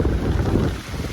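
Strong wind blasting across the microphone on a very windy day, a loud, dense rumbling buffet without pause throughout the brief moment.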